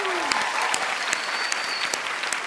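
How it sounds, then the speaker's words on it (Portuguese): An audience applauds a singer at a blind audition on The Voice Brasil 2015, a dense, steady wash of clapping filling the hall with a few brief tonal sounds riding over it. "Aplausos para Goiás,"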